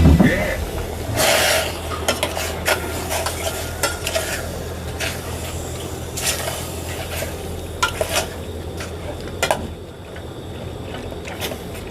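Beef slices dropped into a pot of boiling water make a busy bubbling hiss, with frequent clinks and scrapes of a utensil against the pot and a few louder splashes along the way.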